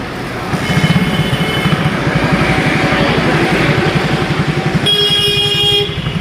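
A Hero Honda Splendor 100cc motorcycle modified in cafe racer style runs after a switch start, a close, loud, steady thumping idle with rapid regular pulses that continues throughout.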